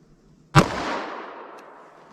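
A single sharp gunshot from a .327 Federal Magnum fired during an outdoor ballistic test, a loud close crack followed by a long echoing decay that fades over more than a second.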